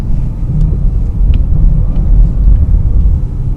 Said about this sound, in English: Let's drop a few gears.